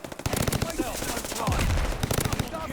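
Welgun submachine gun from Call of Duty: Vanguard firing in rapid bursts of sharp, close shots, with brief pauses between volleys and a denser stretch of gunfire, loud against faint background game sounds.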